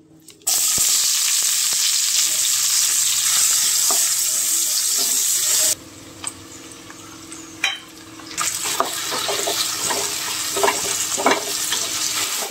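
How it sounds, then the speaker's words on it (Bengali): Dried red chillies and white cumin crackle and sizzle loudly in hot oil left from frying fish, then the sizzle drops and quieter popping and stirring scrapes follow. "এই মাছ ভাজা তেলের মধ্যেই ফোড়ন দিয়েছি শুকনো লঙ্কা আর সাদা জিরে"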